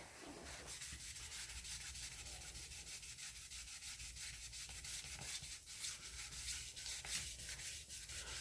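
Car body panel being wet sanded by hand during auto paint prep, a steady continuous gritty rubbing with quick back-and-forth strokes, close and even in level, with no talking.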